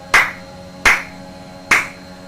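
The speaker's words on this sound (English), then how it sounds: "Slow clap." Three slow, evenly spaced claps, sharp and close, each with a brief ringing decay, in an isolated room.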